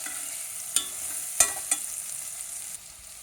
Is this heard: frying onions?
yes